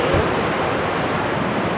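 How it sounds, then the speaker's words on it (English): Creek water rushing over rocks near a small cave, a steady, dense broadband roar with no breaks, close and fairly loud throughout. "Here's the creek."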